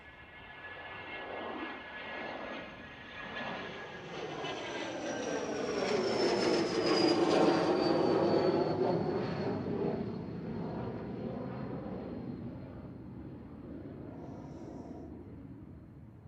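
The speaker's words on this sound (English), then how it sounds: "Here's the Learjet." A Learjet passing at Manchester Airport, its engine roar swelling to a peak mid-pass with a high whine on top, then slowly fading as the aircraft moves away.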